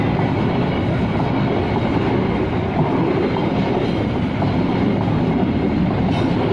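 A coal freight train rolls past nearby in Cibinong, Indonesia, a steady heavy rumble with rhythmic wheel clatter that holds loud and even throughout, with no voices.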